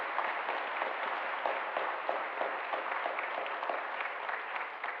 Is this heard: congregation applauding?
yes